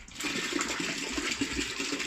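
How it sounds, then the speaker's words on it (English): Water from the container of a BTMS-17K digital filling and weighing machine is poured out in a continuous, close, rushing splash with no talk. "I throw away the water."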